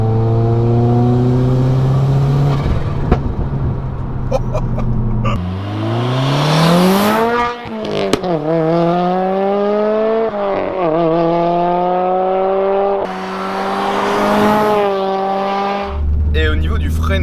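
Engine of a lowered, roughly 500-horsepower Subaru Impreza WRX STI revving hard through rising gear pulls, loud and close, with shifts between sweeps and a brief settle before accelerating again.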